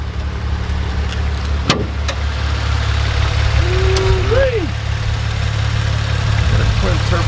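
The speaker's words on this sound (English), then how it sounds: "Got a twin turbo V6." Maserati twin-turbo V6 idling with the hood open, a steady low engine hum close by, a brief click and a short whistling tone partway through.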